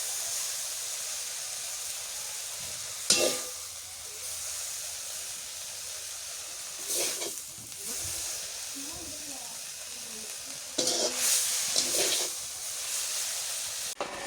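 Jute leaf greens frying in a pan give off a steady soft hiss and sizzle, with brief louder bursts of crackle now and then, close up and with no talk over it.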